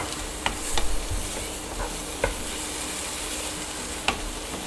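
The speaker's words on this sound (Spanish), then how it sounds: "Mientras vamos en una sartén a poner a dorar el tocino." Bacon browning in its own fat in a dry skillet with no oil added: a steady, close sizzle throughout, broken by a few sharp clicks and scrapes from the pan.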